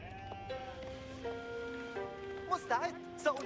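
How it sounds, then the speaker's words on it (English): Sheep bleat several times in a video game match, short nasal calls over a steady soft musical drone, fairly faint and spaced apart. "sheep"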